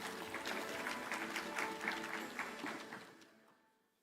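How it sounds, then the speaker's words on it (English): Audience applause at a health sector conference session, a steady dense patter of many hands clapping that fades out toward the end. "Let's give them a round of applause as we settle in."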